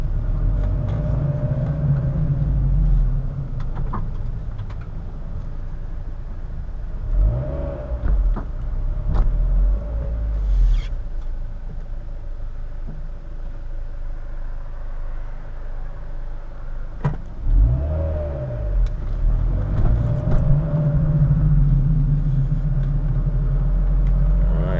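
A 2008 Mazda Miata MX-5 NC idles with a steady low rumble, then its engine swells in two revving pulls around the middle and again near the end as the car starts to move off, all close and loud with no talk.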